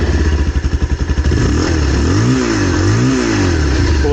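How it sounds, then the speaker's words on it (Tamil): A 2024 Bajaj Pulsar 220F motorcycle idles close by, its exhaust silencer putting out a steady low thrum that swells through a few throttle blips, rising and falling in pitch before settling back. "இந்த பைக்கோடைய சைலன்சர் சவுண்ட்"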